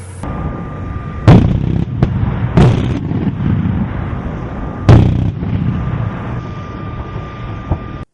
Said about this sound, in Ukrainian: За одну хвилину ця бойова машина може здійснити близько п'яти тисяч пострілів